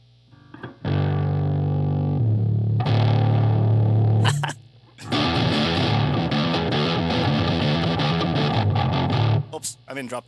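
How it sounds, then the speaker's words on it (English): Electric guitar run through a whammy pedal pitched down to a bass-like tone, distorted notes and chugging riffs in drop D, loud and close with a brief pause between phrases, no talk. "Can you make the bass out of a whammy pedal for this song?"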